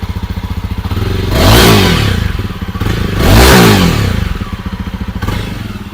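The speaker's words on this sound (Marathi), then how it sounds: "चला आपण आता ऐकू बाईकचा एक्झॉस्ट नोट कसा आहे." A Jawa 42 Bobber motorcycle idling close by with a steady thumping exhaust pulse, revved twice in swelling bursts before settling back to idle.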